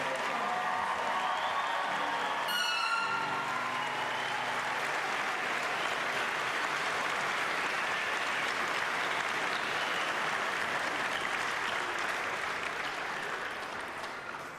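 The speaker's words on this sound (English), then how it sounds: "Please join me in one more round of applause for our graduating bachelor's." An audience applauds graduating bachelor's students at a spring convocation, a steady sustained round of clapping from a crowd that fades slightly at the end, with a brief tonal sound at the start.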